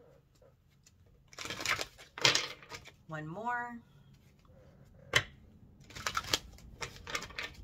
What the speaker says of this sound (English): Let me give this a solid shuffle.